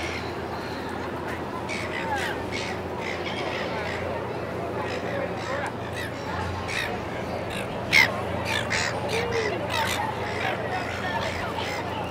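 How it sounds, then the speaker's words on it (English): Seagulls call again and again on a busy Sunday waterfront near a boat, their cries spread across a continuous background of people talking. "Did you see all these seagulls?"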